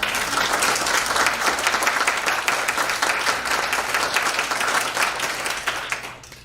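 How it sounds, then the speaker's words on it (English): Sustained applause from a large audience, dense steady clapping that carries on for several seconds before fading out. "let's just start with a round of applause"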